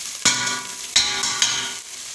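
Garlic sizzles in a pan as it turns golden, with a steady crackling fry broken by three sharp bursts, as if stirred or tossed, close and fairly quiet.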